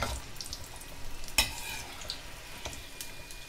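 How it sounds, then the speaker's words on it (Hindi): Bhujia samosas deep-frying in oil over a slow flame, a soft steady bubbling sizzle with a sharp clink of a utensil partway through and a few lighter taps. "स्लो फ्लेम पे इसे फ्राई करना है, तभी अच्छा खस्ता होता है।"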